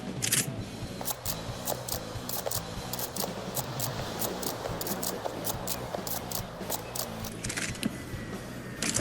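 A long reload of a 25mm grenade launcher in Fallout 4, with rounds loaded one at a time into its fixed drum as a steady series of sharp mechanical clicks and clacks, close and crisp, with no speech.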